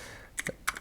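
Keystrokes on a computer keyboard, about four or five crisp clicks in two quick pairs after a brief quiet lead-in, close and fairly loud, no talking.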